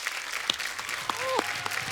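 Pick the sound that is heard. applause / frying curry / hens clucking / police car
applause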